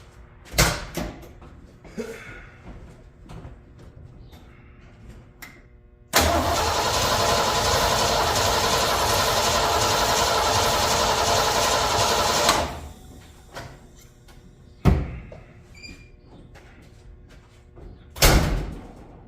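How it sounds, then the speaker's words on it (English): A Ford F100 pickup engine with new dual valve springs and an MSD ignition cranks in a long steady whir for about six seconds, then stops, followed by scattered clunks and bumps nearby. "I'm gonna give this thing a few cranks, make sure not do nothing crazy. And then I'm gonna fire it up"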